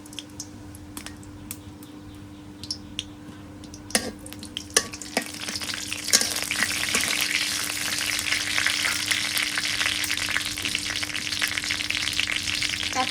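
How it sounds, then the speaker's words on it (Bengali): Whole cumin seeds frying in oil in a wok for village-style yardlong bean stir-fry: a few sharp pops and clicks at first, then a rising, sustained dense sizzle close by. "কড়াইয়ে তেল দিয়ে দিছি, আস্ত জিরে দিয়ে দিই।"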